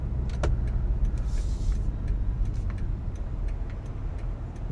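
A 1998 Lexus LX470 with a 4.7-liter V8 drives along in quiet, fantastic condition, its cabin hum low and steady under soft ticking and clicking sounds, with a brief whirring hiss partway through.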